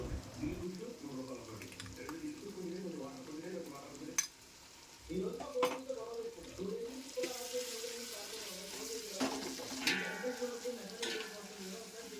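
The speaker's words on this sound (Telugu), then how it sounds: "ఆల్రెడీ ముందుగా మిక్సీ పట్టుకున్న మసాలా మిశ్రమాన్ని ఇందులో వేసి 2 మినిట్స్ వేయించుకోవాలి" Ground spice masala paste frying in a pan while making chicken dum biryani, a steady sizzle with stirring scrapes and a short pause midway, with a brief burst of running tap water near the end.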